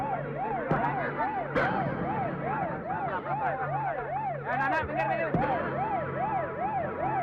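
An ambulance siren wails nearby in a fast rising-and-falling yelp, looping steadily throughout, with brief voices and thumps under it.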